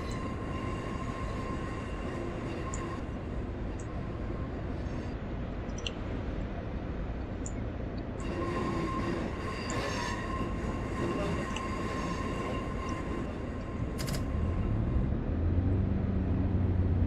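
A train running on the line from Okehampton to Exeter St Davids in a train simulator game, with a steady loud rumble of wheels on rails and a faint whistle, continuous throughout with no talking.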